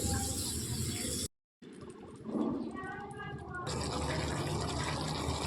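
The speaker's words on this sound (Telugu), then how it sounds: "ఇందులోనికి కొద్దిగా చింతపండు పులుసు పోసుకోవాలి" Tamarind juice is poured into a pan of frying korameenu fish, giving a brief liquid gush and splash over the steady sizzle of hot oil.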